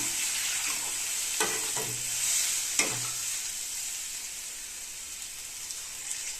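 Bitter gourd simmers and sizzles in a tamarind, salt and chili powder mixture in a home kitchen pan, giving a steady bubbling hiss with a couple of brief utensil clinks.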